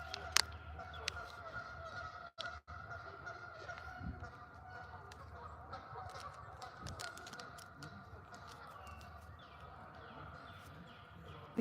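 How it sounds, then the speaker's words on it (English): Canada geese honking during a solar eclipse in Cleveland, Ohio, a faint, distant, overlapping chorus of calls over a steady outdoor hum, with occasional louder nearby knocks. "The Canadian geese don't like it."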